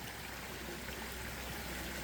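Water trickles and flows steadily in a garden pond with brown, stirred-up water and logs along the edge, a continuous close babbling stream with no talk.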